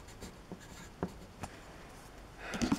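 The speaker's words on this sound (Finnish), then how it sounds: "Paperia ja kynän, että tässä on nyt paperia. Sitten mä kirjoitan siihen nyt vaikka jotain." Pen or marker strokes scratching on paper during a craft session, quiet and close, with a few short scribbles spaced out and a busier burst of writing at the end, no voices.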